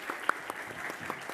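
An audience claps in welcome as a company founder and CEO steps on stage at an investor day event, a steady wash of many hands applauding at moderate volume.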